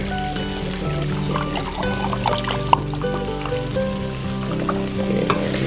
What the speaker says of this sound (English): Now is where we're going to add in the beautiful bone broth